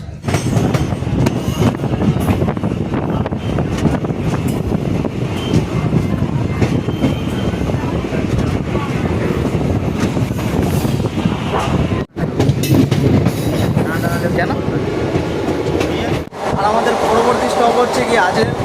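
Loud, continuous rumble of a passenger train pulling into a station on an Indian rail line between Dalkhola and Katihar, with steady wheel and carriage noise, brief dropouts, and people talking under it.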